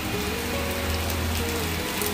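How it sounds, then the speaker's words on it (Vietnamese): Steady rain pours down and patters on surfaces nearby, a dense continuous hiss with no voices over it. "trời buồn, trời đổ cơn mưa."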